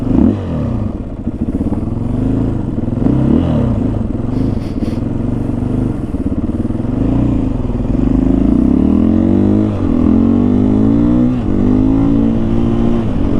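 A motorcycle fitted with an Acerbis X Seat runs steadily during a test ride, its loud, close engine droning and rising in pitch as it revs through the gears, with wind rush throughout.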